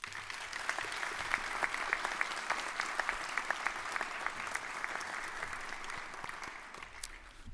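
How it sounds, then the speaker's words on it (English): Short round of applause from a large audience at an autumn commencement ceremony, a soft, fairly distant wash of clapping lasting several seconds. "give a short round of applause to the support network that helped you get where you are"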